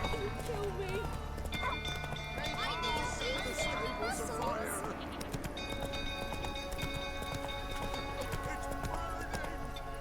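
Roach the horse gallops in The Witcher 3, rapid rhythmic hoofbeats clopping close and steady for ten seconds, with a whinny, crackling fire and distant shouting townsfolk mixed in beneath.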